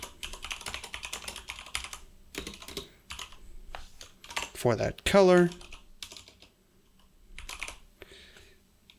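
Computer keyboard typing runs as rapid, close clicking bursts, pausing and resuming, while someone talks over it while coding.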